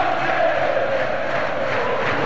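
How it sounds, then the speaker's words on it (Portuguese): Fluminense supporters roar and chant at the Maracanã stadium during a 2002 Campeonato Brasileiro match against Corinthians, a dense, sustained crowd roar filling the space at steady loudness. "Faz tempo que a torcida do Fluminense não fazia tanta festa no Maracanã"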